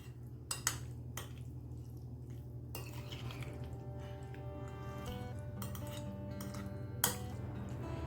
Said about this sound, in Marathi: आता हे सर्व मिक्स करून घ्यायचे आहे.